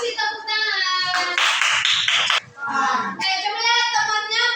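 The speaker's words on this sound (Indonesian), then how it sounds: "Kasih tepuk tangan" Children in a primary school classroom break into a short burst of clapping between stretches of a teacher's and children's speech.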